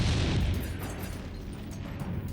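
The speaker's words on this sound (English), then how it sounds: "At the same time, American tanks were shooting on us." American tank cannon fire during the Battle of the Bulge, a heavy low boom that opens loudly then rumbles and decays over a couple of seconds, alone without speech.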